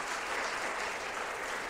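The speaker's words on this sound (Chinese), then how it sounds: "拍手祝福他" Church congregation applauding during a Sunday worship service, a steady, dense wash of clapping from many hands filling the room without a break.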